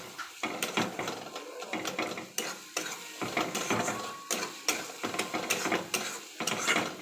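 Ginger-garlic-chili paste fries with onions in hot oil, a soft sizzle under a steady series of scraping, clattering stirs against the pan.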